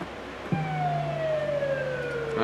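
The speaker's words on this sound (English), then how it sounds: "A police siren sample." A police siren sample in a song wails in a falling sweep, steady and fairly loud, with a brief crash at the start and a swell at the end.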